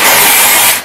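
A loud, close hiss of aerosol hair spray applied to hair lasts just under a second as one continuous burst.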